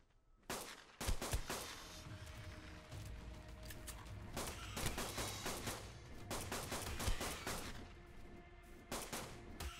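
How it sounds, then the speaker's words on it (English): A fabricated pistol fired in Ark: Survival Evolved gives sharp, close shots in quick irregular bursts, several in fast succession over a continuous background of game noise. "So why did I take a fabricated pistol? It just has the rate of fire that I wanted."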